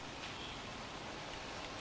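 Heavy rain falls in Bardoli near Surat as a steady, dense hiss of downpour that fills the whole stretch evenly, with no talking.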